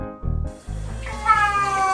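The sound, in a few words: cat meowing loudly, crying to get out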